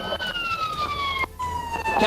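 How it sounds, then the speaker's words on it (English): A police car siren wails during a high-speed traffic stop, a loud, close, steadily falling tone with engine rumble and road noise underneath. "I'm gonna turn the siren off."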